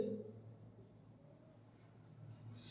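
A marker or chalk scratches on a board in a classroom lecture, with faint, close strokes repeating at low level under a quiet room tone.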